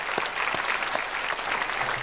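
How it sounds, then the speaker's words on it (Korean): A Korean church congregation claps in thanks during a Sunday service, a steady, dense burst of applause filling the hall for a couple of seconds. "주신 모든 은사와 달란트를 통해서 헌신한 모든 분들께 감사의 박수 드리겠습니다"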